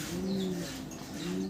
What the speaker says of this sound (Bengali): দেখানোর চেষ্টা করি যেন আপনারা ভালো মতো কবুতরগুলো দেখতে পারেন।